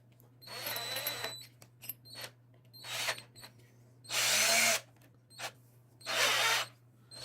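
A 58V cordless drill fitted with a wood bit whirs in several separate bursts, spinning with a slight wobble, some short and some held at full trigger for about a second, with quiet pauses between, close and clear.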